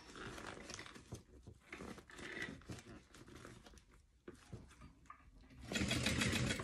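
Sewing machine stitching through a bubble mailing envelope, bursts of close mechanical whirring with pauses and crinkly handling of the plastic, ending in a louder sustained run.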